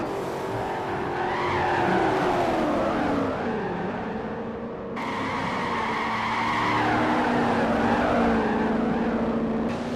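Race cars at Sedona in a sim racing game, engines howling and skidding with drawn-out tire squeal, the pitch swooping down and back up as the cars pass close by.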